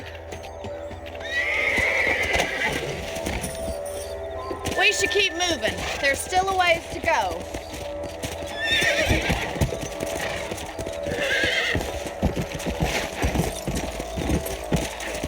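Horses in the Red Dead Redemption video game: several neighs and whinnies over steady clip-clop of hooves on a trail, while characters talk throughout.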